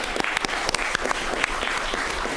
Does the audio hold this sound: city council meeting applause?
yes